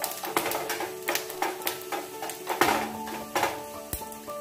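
Oil sizzles and crackles steadily while a spoon clinks and scrapes against a small pan in quick, irregular taps.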